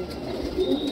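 A high-flying Indian pigeon gives a brief, soft low coo nearby, heard alone for under a second.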